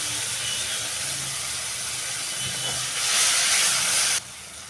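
Spice paste frying in a pan hisses loudly when a splash of water hits it, the sizzle swelling into a bright burst near the end before dropping back to a softer simmer.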